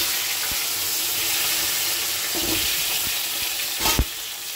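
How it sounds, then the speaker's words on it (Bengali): Potatoes, taro, tomato and green chili fry in the oil left from frying fish, a steady loud sizzle with some stirring and a couple of sharper scrapes near the end. "মাছ ভাজার তেলেই আমি বসিয়ে দেব এখন সবজিটা।"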